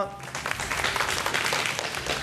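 A studio audience at a Ramadan iftar television broadcast applauds in a dense, continuous burst of clapping, heard fairly close and sustained throughout.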